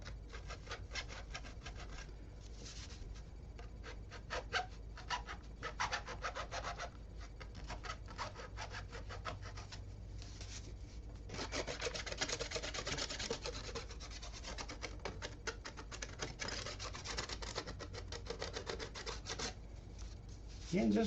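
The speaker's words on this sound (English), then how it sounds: "I'm just gonna go around here and get that burr off of there." A file scrapes a burr off a metal part on a custom three-string guitar, with repeated close, rhythmic rasping strokes in bursts and brief pauses between them.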